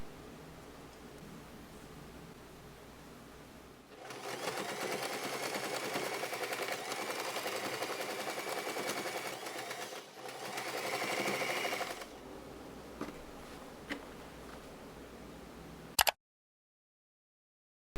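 A sewing machine stitches a straight seam near the edge of a fabric pouch, a quiet steady whir in two runs separated by a brief pause, then a click before it stops.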